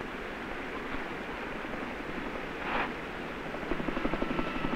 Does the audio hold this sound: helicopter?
yes